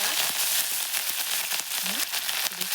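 Mustard seeds, cumin, green chillies and curry leaves sizzling in hot oil as a tempering for village-style dhokla cooked on a wood-fired chulha. A close, steady hiss is peppered with sharp crackles and pops.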